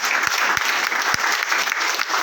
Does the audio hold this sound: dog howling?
no